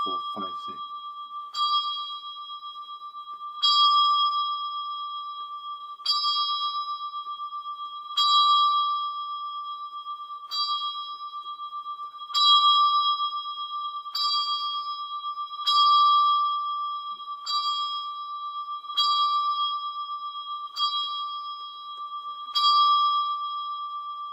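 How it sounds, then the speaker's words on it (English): Six church bells ringing plain hunt: clear, evenly spaced bell strikes repeat in a steady cycle for over twenty seconds, each ringing out with a long sustained tone. "listening to how the bell rings slower as you hunt up towards the back, up to 6th place"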